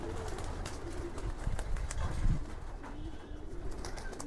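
A pigeon being released to test flight coos nearby, with soft rustling wing flutters and a brief scuffle midway.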